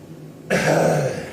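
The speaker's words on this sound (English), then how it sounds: "Go ahead and cough in." A patient coughs once on request during a chiropractic category 3 exam, a single short, close, throaty burst after a quiet moment.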